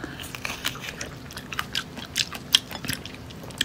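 Close, crisp biting and chewing of a crunchy, unripe prickly fruit, a run of irregular wet crunches and chomps with one sharper crack midway, no talking.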